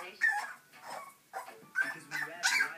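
A Cairn terrier puppy gives a run of short, high whimpers and yips with small barks in uneven bursts, close by and fairly quiet, with brief pauses between cries.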